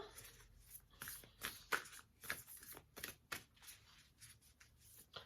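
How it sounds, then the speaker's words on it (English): Large crystal oracle cards are shuffled by hand, giving a quiet run of irregular papery riffles and soft slaps that bunch into brief bursts, with no talking. "Quite big, these cards. Difficult to shuffle."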